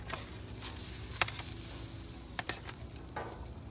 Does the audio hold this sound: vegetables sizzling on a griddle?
yes